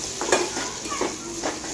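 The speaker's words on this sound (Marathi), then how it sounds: "आणि यामध्ये आता आपण टाकूया काजूची पेस्ट, याने ग्रेव्हीला अशी मस्त थिकनेस येतो।" Cashew paste is stirred into hot oil in a pan while making paneer masala gravy: steady close sizzling with repeated scraping stir strokes and no voices.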